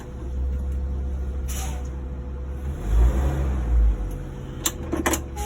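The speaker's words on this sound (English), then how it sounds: "leave the parking brake applied, and I'm going to accelerate the vehicle" A truck's engine is revved in drive with the parking brake applied during an in-cab pre-trip inspection: a low, steady idle rumble swells into a loud, deep rev, then eases back, with a few sharp clicks near the end.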